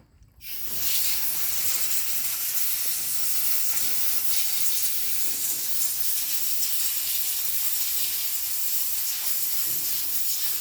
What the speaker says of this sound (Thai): พ่นสีขาวครับ